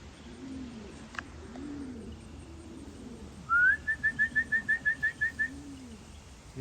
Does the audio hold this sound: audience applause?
no